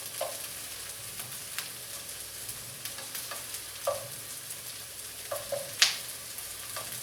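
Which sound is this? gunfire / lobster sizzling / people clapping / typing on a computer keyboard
lobster sizzling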